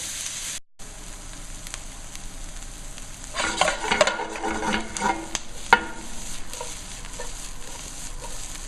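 Onions soften in olive oil in a deep pan with a soft, steady sizzle; midway a burst of stirring adds scraping and clattering against the pan before it settles back to gentle frying.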